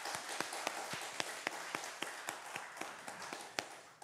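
A church congregation applauds during a Korean Sunday worship service, a steady, fairly faint wash of clapping with individual sharp claps popping out throughout, no talking over it.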